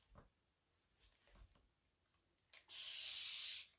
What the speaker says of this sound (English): I'm just spraying some distilled water